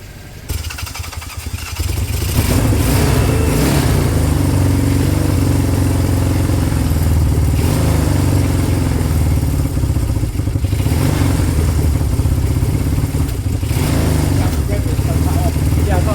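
Honda CB200 motorcycle with new piston rings firing up for the first time; after a quieter opening, the engine catches and settles into a loud, close, clattery running idle that continues steadily.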